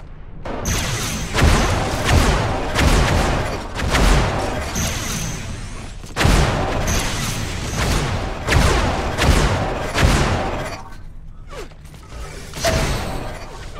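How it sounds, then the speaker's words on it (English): In Unreal Tournament, flak cannon blasts and shock combo explosions fire in a dense, repeated barrage of loud booms and crackling bursts. Metallic mechanical clanks and the game's ambient noise run beneath the shots. "But now Flo, with a nice shock combo, getting a little bit too eager maybe with the flak cannon"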